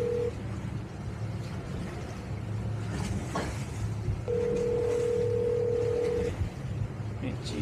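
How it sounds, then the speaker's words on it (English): A phone rings aboard a 30ft Hunter sailboat, a steady electronic tone that sounds briefly at the start and then holds for about two seconds midway, over a constant low rumble of engine and water. "It's your phone, buddy."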